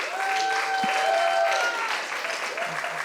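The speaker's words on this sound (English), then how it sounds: "By applause. Who stayed in New York during the pandemic?" Applause and cheering from a comedy club audience in New York fill the room at close range, a steady dense clatter with a few voices calling out over it, fading slightly toward the end.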